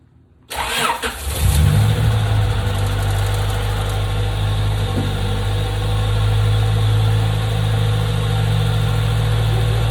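A 1996 Honda Civic with a B-series engine, just back together after a gasket replacement, cranks briefly and fires up, then settles into a steady, close, loud idle with a low rumbling hum and no talking.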